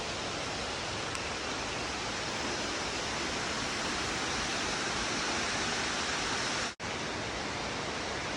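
Hickory Nut Falls rushes in a dense, constant roar heard from near its base, loud and unbroken apart from one momentary dropout, with no voices present.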